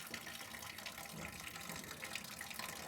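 Water drains from a dual-boiler E61 espresso machine into a sink, a faint steady trickling gush running throughout.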